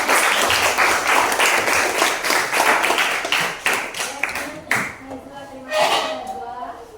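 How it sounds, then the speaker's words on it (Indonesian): A class claps and applauds for several seconds, the clapping thinning out near the end as voices come in. "Tepuk tangannya buat teman-teman."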